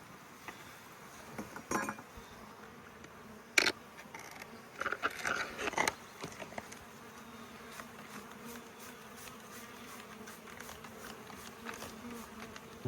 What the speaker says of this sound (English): So now we've got these bees here in this package